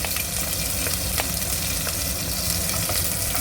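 Garlic fries in a tablespoon of oil in a pressure cooker, giving a steady close sizzle with faint crackles and occasional stirring scrapes.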